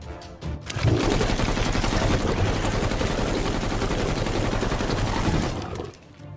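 Dense burst of gunfire from a Filipino horror action audio drama, sustained rapid shots forming a loud continuous barrage for several seconds before cutting off, with no talking.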